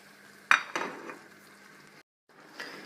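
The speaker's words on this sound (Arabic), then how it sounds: "بعدها بنضيف قطع الدجاج اللي قليناهم مع بعض" Fried chicken pieces are tipped into a pan of sweet and sour sauce, with a sharp metallic clink, soft clatter and a gentle sizzle, followed by quiet stirring.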